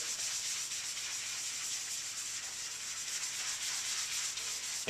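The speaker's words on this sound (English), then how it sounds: "Just wipe it in really good." A cloth rubs trim restorer into unpainted black plastic car trim, giving a continuous close scrubbing hiss that stays steady throughout, with no voices.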